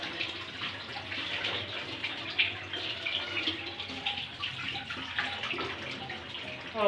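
Tap water runs steadily while raw beef is washed by hand in a home kitchen, a continuous splashing hiss with small clatters and no talking.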